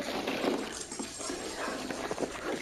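A dog in the video game Fortnite whimpers and whines in short repeated bursts, close and fairly loud over a busy background of game noise.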